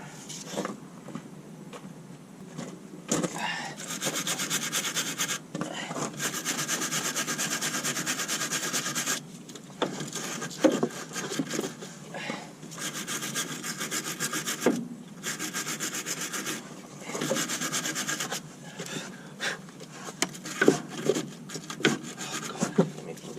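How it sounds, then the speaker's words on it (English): Wire brush scrubbing the top and bottom nuts of a truck shock absorber, a close, loud rasping in repeated bursts of rapid back-and-forth strokes with short pauses between. "Get my wire brush out."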